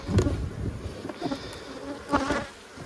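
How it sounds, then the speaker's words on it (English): A dense, close buzzing of many honey bees in an opened double-deep hive, steady and droning with some louder swells, no talking. "I'm trying to show you what my bees look like."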